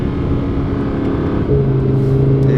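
An Audi R8 engine droning loudly from inside the car, steady then stepping up in pitch as it revs, with no distinct exhaust pops and no talk.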